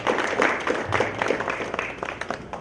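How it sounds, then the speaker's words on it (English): Audience applause at a Boston PHP tech meetup: a steady, dense patter of many hands clapping in a room, moderately loud and sustained throughout with no distinct voices. "If we could all give him a round of applause."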